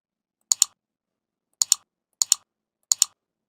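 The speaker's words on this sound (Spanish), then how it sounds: "Le doy nuevamente clic acá" A computer mouse clicks in four quick double-click pairs spaced a second or so apart. The clicks are sharp, close and fairly quiet, with silence between them and no talking.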